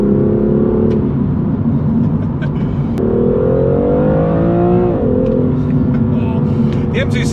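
A BMW M2 CS with the M55 engine revs hard and steadily, its loud engine note climbing and falling in pitch through several sweeps, heard close and continuous with no talking.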